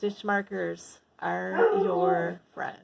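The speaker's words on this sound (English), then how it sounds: "That's my dog in the background" A pet dog barks in the background in a room where someone is talking, its bark tangled with the speech, a few sharp yips and a longer whining bark in between the words.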